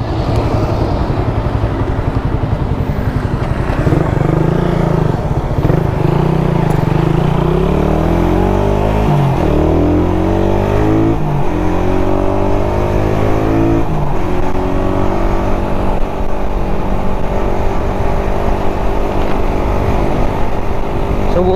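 A carbureted Suzuki Raider 150 motorcycle, fresh from an oil change after its engine suddenly died, rides along with a loud, continuous engine drone that climbs and drops repeatedly as the revs change.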